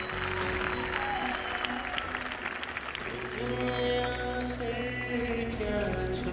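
Audience at an Alkhidmat Foundation aptitude test event in Khyber Pakhtunkhwa applauds to welcome a guest, dense clapping rising and settling over several seconds while sustained tones, likely music, play beneath.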